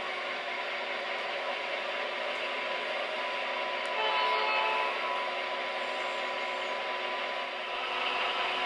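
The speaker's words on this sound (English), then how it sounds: "The switch crew cuts out the sleeping cars and adds the dome lounge and diner in between them and the coach section of the train." A Union Pacific passenger train is switched in the rail yard, giving a steady mechanical drone with a high whine, moderately loud and continuous, briefly swelling midway, with no voices.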